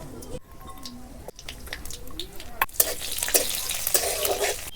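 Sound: frying black cumin and green chillies in mustard oil in a kadai

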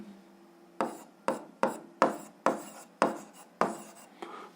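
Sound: writing notes by hand

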